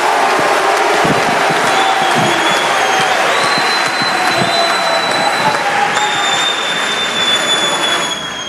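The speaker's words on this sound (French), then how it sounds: "je vais vous demander d'applaudir avec tout l'amour qui est le vôtre, tous les orateurs et toutes les oratrices qui ont parlé aujourd'hui" Audience applauding speakers at the end of a public gathering, a loud continuous wash of many hands clapping with scattered whistles, sustained for several seconds.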